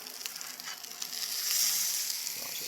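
Lamb ballotine simmering on low heat in a pan, giving a steady, soft sizzle and crackle throughout that swells slightly midway, close and alone with no talk.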